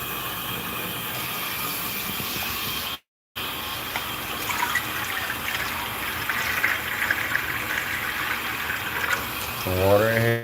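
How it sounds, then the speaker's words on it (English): Water pours in a steady gushing stream into a cooking pot being readied for steaming crabs, with a brief cut partway and a rising fill tone near the end. "So we're gonna go ahead and fill up our pot."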